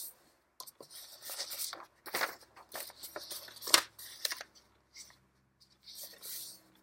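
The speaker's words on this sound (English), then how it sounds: "Just fold that one into thirds." Paper being folded into thirds while assembling a hostess pack in a manila folder, giving intermittent dry crinkles and creasing rustles in short bursts, fairly close and moderately loud, with quiet gaps between handling sounds.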